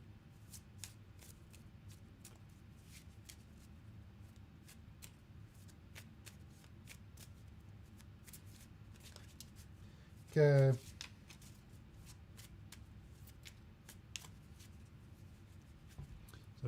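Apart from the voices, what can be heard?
shuffling a stack of cards for a solo board game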